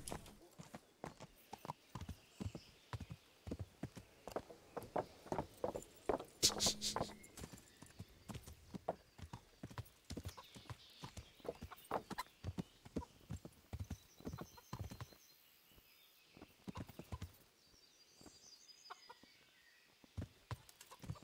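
Horse hooves clip-clop in Kingdom Come: Deliverance, a long run of sharp, uneven hoof strikes at close range, with brief pauses and a whinny, along with chicken clucks and a voice talking over parts of it.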